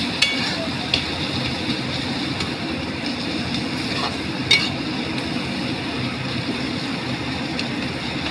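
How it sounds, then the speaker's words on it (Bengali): Spices and sugar sauté in a pan for a potato and brinjal curry, giving a steady sizzling hiss with a few faint clinks of a spoon against the pan. "চিনি, মশলাটাকে একটু কষিয়ে নিচ্ছি।"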